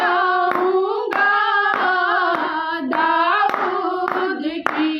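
Clapping hands at a women's ministry worship gathering beat a regular pulse about twice a second, sitting under a full, continuous sung Hindi worship chorus.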